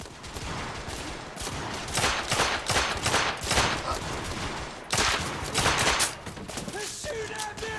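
Gunfire in The Order: 1886 video game, with loud, sustained volleys of rapid shots that break briefly near the middle and then resume, and a few faint voice fragments mixed in.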